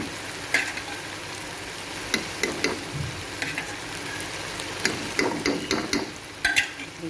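Yogurt goes into sizzling arbi (taro root) masala with green chillies, a quiet steady frying hiss broken by sharp clicks and scrapes of a spoon stirring against the pan, with no talking.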